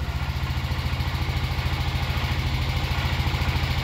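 A Honda 4x4 ATV engine runs steadily at idle nearby, a low, even, pulsing thrum with a light mechanical clatter and no voices.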